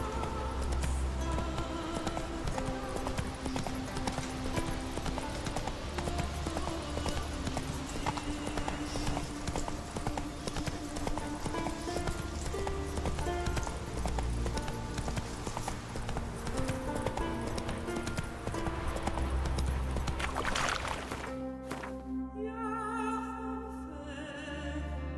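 Roach, the horse in The Witcher 3, gallops with a fast, steady clip-clop of hooves under dense game music. The hoofbeats stop near the end as the music thins out.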